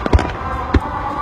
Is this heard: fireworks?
yes